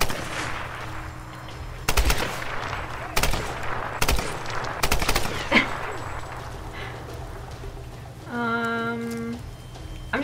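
Gunfire from a range of weapons in the video game Tomb Raider, several loud sharp shots spaced a second or so apart, followed by a brief tonal weapon-switch or reload sound near the end, with no talking.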